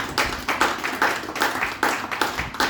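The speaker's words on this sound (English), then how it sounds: "big round of applause for Mr. Joshi" An audience applauds for Mr. Joshi at a political gathering, producing steady, rhythmic clapping that sounds fairly close and carries on evenly throughout without talk.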